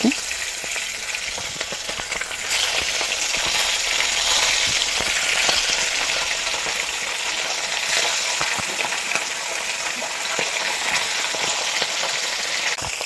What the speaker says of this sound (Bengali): সরষের তেল দিয়ে দিছি তেলটা গরম হয়ে গেছে এখন আমি মাছের মাথাগুলো দিয়ে দিচ্ছি